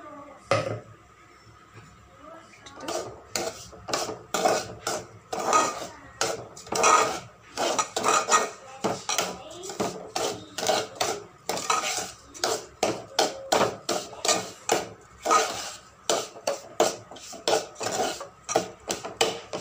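Roasted gram powder being stirred into ghee in a pan over low flame, a long run of rhythmic dry scraping strokes of a spoon against the pan, close and steady with no voice.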